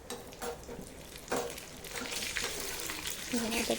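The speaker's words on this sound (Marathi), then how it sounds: "तूप छान गरम झालं की त्यामध्ये थोडेसे ड्रायफ्रूट्स तळून घेते आहे" Dry fruits frying in a spoonful of hot ghee, a soft steady sizzle with light crackles, with someone talking over the frying.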